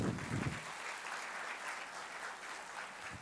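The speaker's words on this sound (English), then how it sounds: "Let's give a huge round of applause for all our dignitaries." Faint, steady applause from an international scientific conference audience honoring the dignitaries, a dense wash of many hands clapping at a distance, holding evenly for a few seconds.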